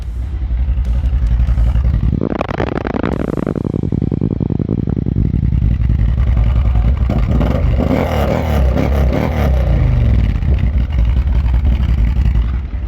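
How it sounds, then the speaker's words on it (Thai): An AODES 1000L 4x4 ATV's engine revs hard through its exhaust, with a sharp loud rise and fall early on, then a rough, throbbing idle with clattering pulses, close and loud throughout. "เดี๋ยวฟังเสียงท่อครับ"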